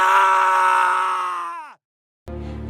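A loud, drawn-out scream effect from a Hindi ghost story set at a haunted village shop, holding a strained, piercing pitch before bending downward and cutting off into silence, then followed by a sudden low tonal hit.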